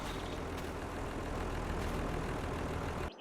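A tractor engine idles steadily in a forestry game, a continuous low rumble that holds level before cutting off abruptly near the end, with no talk over it.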